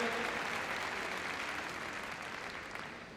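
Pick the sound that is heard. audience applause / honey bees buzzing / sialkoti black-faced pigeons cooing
audience applause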